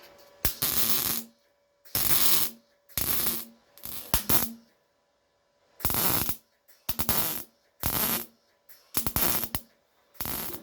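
Welding a repair panel onto the nearside door pillar of a Ford Escort MK1 during restoration, a series of about ten short crackling weld bursts separated by brief pauses.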